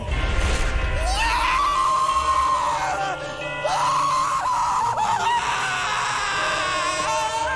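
An anime character from Attack on Titan Season 1, Episode 5 lets out a long, loud, anguished scream that breaks briefly and then resumes, with dramatic background sound underneath.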